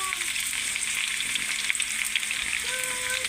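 Ginger goes into onions frying in a pan for tangra fish curry, and a continuous crackling sizzle runs at moderate level with light stirring scrapes throughout, no speech.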